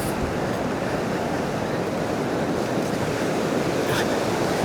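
A mountain stream at Zojila in Ladakh rushes in a dense, unbroken roar of flowing water, loud and close, with gusty wind noise mixed in and no voices.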